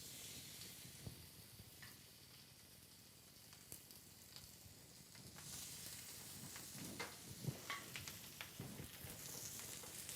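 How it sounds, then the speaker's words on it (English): Chicken sizzles in a hot pan under a press, a steady close hiss with crackling pops that grows busier partway through. "we're going to take our chicken and put it right on there, get ready for the sizzle"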